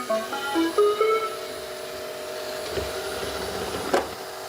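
A Shark AI Ultra robot vacuum hums steadily as it drives back to its dock, with faint beeps and a couple of soft bumps.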